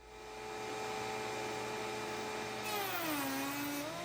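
Router spinning a large steel raised panel bit as it cuts soft pine, a steady high whine with a shifting pitch as the bit bites into the wood, loud and close with no talking.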